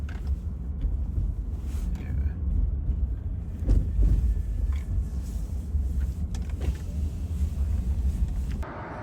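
A Rivian electric truck pulls up, heard as a steady low rumble of tires and road noise with wind buffeting, fairly loud and continuous, with no voices.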